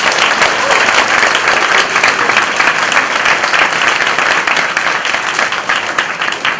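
Dense, steady audience applause fills a live lecture hall during Professor Roh Byung-cheon's talk, many hands clapping loudly and continuously for the whole stretch with no break.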